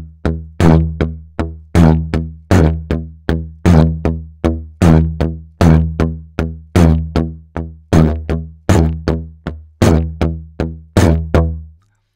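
A didgeridoo plays a steady, close rhythmic pattern, alternating droning pulses with shorter non-drone sounds in evenly repeated groups of sharp, buzzy blasts for about twelve seconds.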